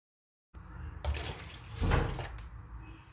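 Two cups of warm water poured into a mixing bowl with yeast for a qatayef batter, a close splashing pour that starts abruptly and swells twice before tapering off.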